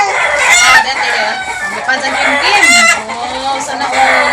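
Chickens cluck busily while a rooster crows, a dense, loud barnyard chorus that keeps going the whole time, with faint voices mixed in.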